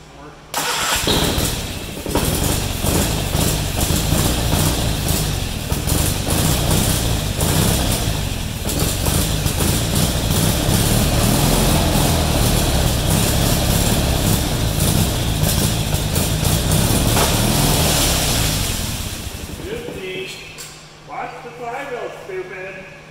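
Kohler opposed-twin engine, converted from vertical to horizontal, cranks and fires up on gas, then runs at a loud, steady roar close by before dying down, with a few brief clunks and shuffles afterward.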